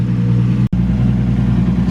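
A 640whp Nissan S15 Silvia with an RB25 engine idles loud and close in a steady rumbling drone, broken by one short dropout partway through.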